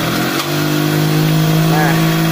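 A small generator engine running on Ipone 100% synthetic two-stroke oil, cranked by hand, hums loudly and steadily at close range with an even, unbroken drone throughout.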